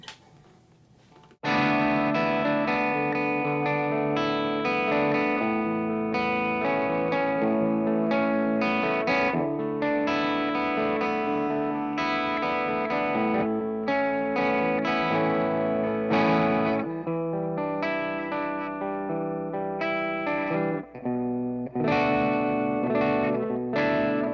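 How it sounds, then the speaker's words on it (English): An electric guitar plays chords and single notes through the JTM 45 channel of a 3rd Power Kitchen Sink 6VEL amp, a steady, full clean tone with a bit of effect shimmer, continuous and loud after a brief quiet start. "So here's some clean tones out of the JTM 45 channel"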